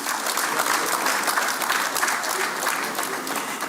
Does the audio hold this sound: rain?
no